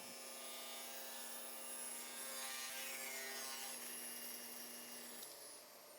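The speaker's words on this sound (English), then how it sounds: "Make a cut, trimming what will become the end to its final length." A table saw rips steadily through a wooden board being trimmed to length with a miter gauge while making tapered planters, a continuous whining cut that holds for about five seconds and then winds down near the end.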